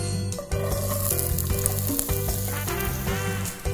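Onion, carrot and celery fry in extra virgin olive oil as the base for a Bolognese sauce, giving a loud, continuous, close sizzle with steady tonal sounds running underneath.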